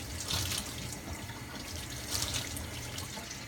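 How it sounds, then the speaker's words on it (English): Running tap water splashes steadily into a sink as cleanser and exfoliation powder is rinsed off skin, a continuous close hiss with two slightly louder surges. "And then you rinse it off."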